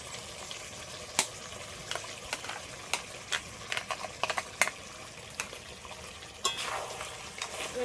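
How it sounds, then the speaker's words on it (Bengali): Chicken sizzles softly in a pan with cashew paste, a quiet steady fry dotted with irregular clicks and scraping stirs, close but low in level. "বেশ কিছুক্ষণ আরেকটু কষিয়ে নিই"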